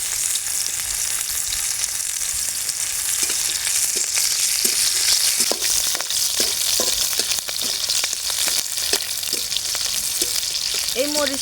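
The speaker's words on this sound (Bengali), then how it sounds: "এই মরিচটা হালকা পোড়া পোড়া হয়ে আসা পর্যন্ত আমি এইভাবে তেলের মধ্যে নেড়ে চেড়ে নেব।" Chillies sizzle loudly in hot oil while being stirred, a dense continuous frying hiss with repeated light scrapes and clicks of the spoon, close up and steady throughout.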